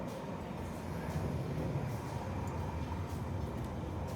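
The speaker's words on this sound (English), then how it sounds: "we're back underground on a rather bursting at the seams Piccadilly line train" A crowded London Underground Piccadilly line train rumbles steadily with a low, continuous roar and faint rattling, heard from inside the carriage.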